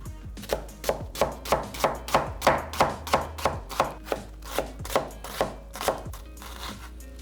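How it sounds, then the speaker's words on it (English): A knife julienning an onion on a cutting board, about fifteen crisp, evenly spaced chops in a brisk steady rhythm, close and loud, with no talking. "you're gonna wanna julienne your onion"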